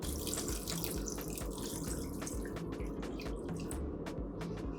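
Tap water runs steadily into a pot, filling it with two cups of water for boiling ramen noodles. The stream is continuous and splashy throughout, close by, with no talking.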